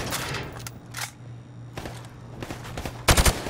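Rifle gunfire from the hip in Call of Duty Modern Warfare Remastered, with a few scattered shots early on and a quick, loud burst of rapid shots near the end over a steady low game hum.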